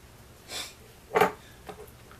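Sticky glitter slime squished by hand, giving a few short soft squelches and wet pops with a louder one in the middle, close and isolated.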